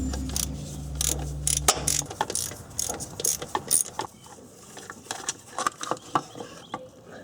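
A hand ratchet backing out transmission bolts on a Ford Ranger during clutch slave cylinder work, rapid close clicking in uneven bursts, loud at first and then lighter, scattered ticks.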